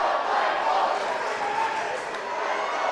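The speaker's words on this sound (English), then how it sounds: "the home Sussex Central crowd coming alive" A home crowd at a Sussex Central high school wrestling match in the Henlopen Conference roars steadily, a dense, sustained wash of cheering and shouting voices filling the gym for the whole stretch.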